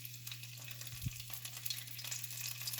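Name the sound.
taco frying in hot oil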